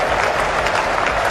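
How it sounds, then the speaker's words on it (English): A large cricket stadium crowd at a South Africa versus England one-day international cheers and applauds a boundary, a dense, loud, continuous roar of clapping and voices. "And the crowd loving that"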